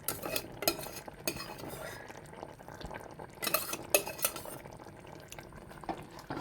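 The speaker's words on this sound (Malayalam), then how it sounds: "നന്നായി ഇളക്കി കൊടുക്കാം." A roasted-coconut chicken curry is stirred in a pot, giving intermittent scraping and clinking bursts over a soft bubbling simmer, close and moderately loud.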